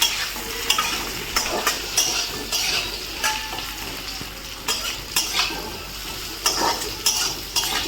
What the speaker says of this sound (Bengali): আলুগুলো সাতলানি দিছি তো, আলুগুলো অল্প হয়েছে, ওখানে সাজনাগুলো দিয়ে দিয়ে মধ্যে সাতলাই দিলে